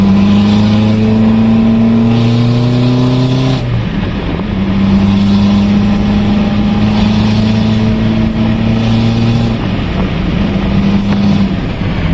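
A remapped 2020 1.9-litre pickup engine revs hard and loud in repeated surges, pitch climbing then dropping sharply between pulls, with a steady droning engine note throughout and no talking.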